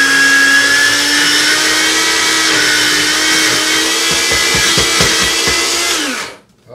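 A blender pulses a batch of hummus, its loud, steady motor whine running for about six seconds, then breaking into several short choppy bursts near the end before cutting off.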